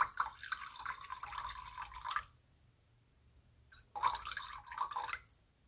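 Liquid is poured slowly into a container on a kitchen scale, two separate bursts of trickling splash separated by a quiet pause, close and fairly soft.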